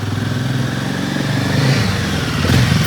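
Royal Enfield Himalayan 450 engine heard while riding, a steady mid-pitched motorcycle drone that swells slightly as the revs climb toward the end, loud and close with wind rush.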